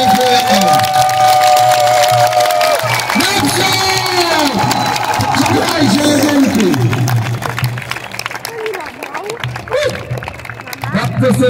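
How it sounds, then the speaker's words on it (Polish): A crowd applauding and cheering after a castle battle reenactment, loud sustained clapping with whoops and children's shouts, while an announcer speaks over it and the noise eases toward the end. "Nagrodźcie ich jeszcze raz oklaskami!"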